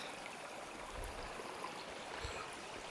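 A river stream flows over stones on Ilkley Moor, a steady rushing wash with a couple of low splashy surges. It is close and fills the whole stretch with no voices.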